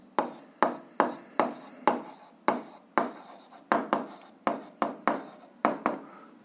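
Pen writing a solution check by hand for an eighth-grade algebra exercise, with steady rhythmic strokes and scratches on paper, about a dozen close, distinct bursts with no talking.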